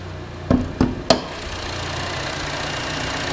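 A 2016 Chevy Cruze LTZ with a 1.4 liter turbo engine sits idling at close range, with a steady low hum after three sharp knocks near the start. No one speaks.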